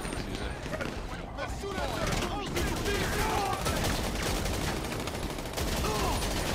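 Gunfire in the GTA 5 video game, a continuous barrage of shots heard under steady game noise, with several people talking over it.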